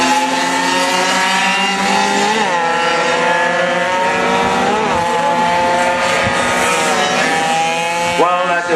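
Struggling racing motorcycle engine during a race, a loud, strained whine rising and falling through gear changes with rough, uneven notes, under commentary from a race announcer.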